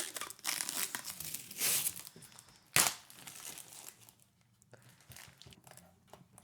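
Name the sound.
peeling protective plastic film off a CD display frame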